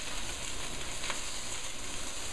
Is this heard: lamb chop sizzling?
yes